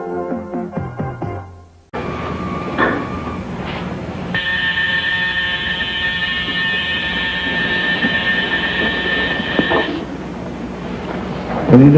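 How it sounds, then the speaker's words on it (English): An alarm clock rings from a 1984 broadcast. A rattling start gives way to a steady buzzing tone that holds for several seconds before it is shut off. "Shutting off the alarm clock."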